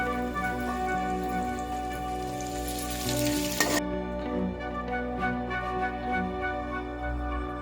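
Onions and garlic sauté in a pan for a fish curry, making a continuous close sizzle over a steady background hum, with no voices.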